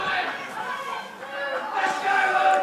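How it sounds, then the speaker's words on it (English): Spirited crowd voices from the stand at a football cup quarter-final between Halswell United AFC and Parklands United, a moderately loud mass of cheering and chatter that swells toward the end. "Looks like there's plenty of voice and enthusiasm in the crowd"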